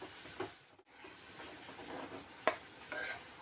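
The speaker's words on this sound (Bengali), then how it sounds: "পাপড় দিয়ে যে অমলেট বানিয়েছিলাম অমলেটগুলি ভেজে নিচ্ছি" Papad omelettes frying in a kadai give a soft, steady sizzle with a sharp scrape or stir near the middle and light clatter, faint and close, with no talking.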